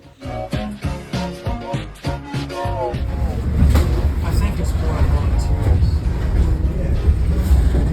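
A 1948 vintage train in the Yarra Valley, Healesville, rumbles and clatters steadily along approaching a tunnel, a dense mechanical roar following some brief voiced sounds at the start.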